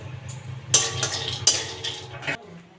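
Peanuts roasting in a wok, stirred with a metal spatula in a run of scraping, clinking strokes over a low background hum, close and moderately loud.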